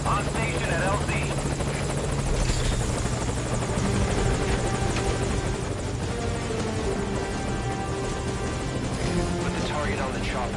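Helicopter at a landing zone in a Metal Gear video game, its rotor and engine roaring loud and continuous throughout, with voices talking over the din.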